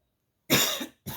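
A person coughs twice: one harsh, drawn-out cough lasting about half a second, then a shorter second cough after a brief pause, close and loud against silence.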